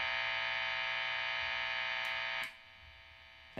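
Steady hiss and buzz from a Peavey 6505 Piranha guitar amp with the crunch channel engaged, loud and constant, then dropping sharply quieter partway through as the crunch switches off.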